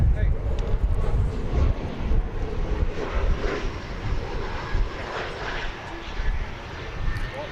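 Jet airliner's engines roaring continuously at DFW Airport before a departure to Chicago, a broad low rumble with some wind buffeting; people talk nearby over it.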